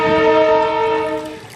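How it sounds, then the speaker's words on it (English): A passing train sounds its horn, a loud sustained multi-tone blast heard alone that holds steady and then fades away. "thankfully I got a train going by when I'm doing this"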